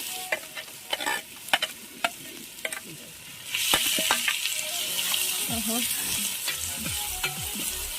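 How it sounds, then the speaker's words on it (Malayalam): Onions frying in oil for chicken biryani, first a few sharp clinks and stirring taps, then a loud steady sizzle as they hit the hot oil, with spoon scrapes continuing under it, close by. "അത് നമ്മൾ സവാള ഫ്രൈ ചെയ്തെടുക്കും കേട്ടോ"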